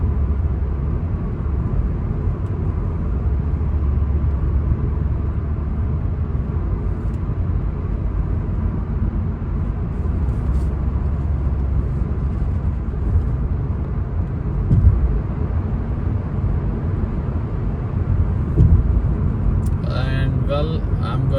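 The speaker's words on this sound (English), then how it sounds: "And now we are gonna overtake the ones that are driving slow." A car drives on Prince Turki Road in Riyadh, passing slower traffic, with a steady engine and road rumble throughout and someone talking over it.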